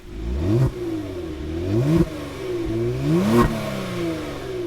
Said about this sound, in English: Not tons of snarl from the tailpipes.